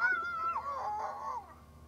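Dog barking sound effect fired from a soundboard app on a Mac with a single keypress, a short yelping, honk-like burst of barks lasting under two seconds, fairly quiet with no talking over it.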